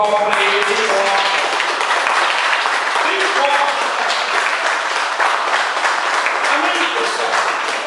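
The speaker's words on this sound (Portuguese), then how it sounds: "Dê uma salva de palmas para ele." Loud, sustained applause from a church audience, dense clapping running the full length without a break, with voices and cheering mixed in underneath.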